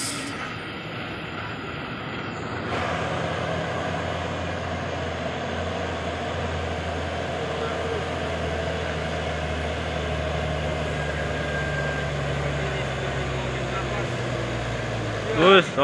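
Heavy Fuso Super Great truck labouring uphill, a loud, steady engine drone with a strained, sustained note that holds throughout, and voices faintly over it.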